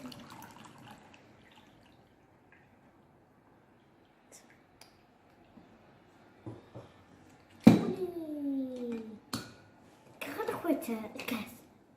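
Water poured into a glass while making borax slime at home: a short splashing pour with a rising gurgle, then more liquid sloshing and clinks, preceded by faint drips and quiet room noise.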